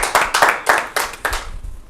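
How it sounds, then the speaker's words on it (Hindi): Audience at a cultural society interview event claps loudly in uneven bursts, several strong surges of hand claps that thin out toward the end, close and prominent with no voices. "को जोरदार तालियां"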